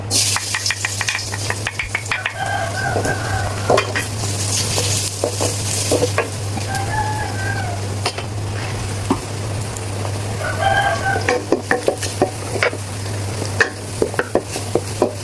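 Garlic frying in coconut oil over medium heat, heard as a constant close sizzle with frequent sharp stirring clicks and scrapes, while roosters crow now and then in the background, no talk.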